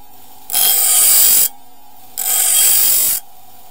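Ontario Rat knife blade drawn across a sharpening stone in two long, even strokes, each a bright abrasive hiss lasting about a second with a short pause between, close and loud with no voices.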